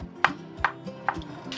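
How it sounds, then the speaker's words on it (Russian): A knife cuts button mushrooms into thin slices on a board, three crisp, evenly spaced chops about half a second apart over a quiet kitchen hush, close and clear. "И тонкими пластинами режу шампиньоны."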